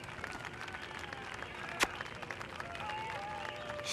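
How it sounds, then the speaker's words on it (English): A crowd applauding and cheering in The Simpsons Game on PS3, a steady, dense wash of clapping, with one sharp louder hit partway through. "I just can't hear you over the roar of this appreciative crowd."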